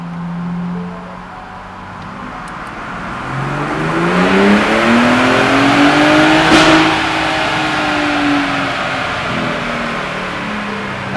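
A tuned Gen 3 Ford Raptor truck engine running on an E50 ethanol blend revs up through a long rising pull, its tone climbing steadily to a loud peak before dropping back, alone without talk.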